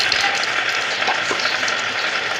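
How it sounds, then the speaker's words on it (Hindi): Breakfast dishes being washed at a home kitchen sink, with a steady wash of running water and faint clinks, close and continuous with no talking. "इधर हो रहे हैं बर्तन साफ़ नाश्ते वाले"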